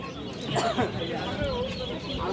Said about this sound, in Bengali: এই মুরগি কি দেশি